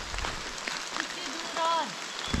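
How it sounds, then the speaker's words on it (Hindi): Heavy rain pours down on a deep forest campsite at night, a constant hissing patter of drops on surfaces close around, with a voice speaking over it and a few brief bird-like tones. "बारिश बढ़ती जा रही है।"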